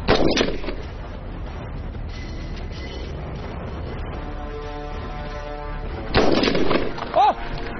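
A shooter in a special-forces competition fires at targets, producing sharp gun reports near the start and again around six seconds. A mechanical clatter and a brief high tone sound in between.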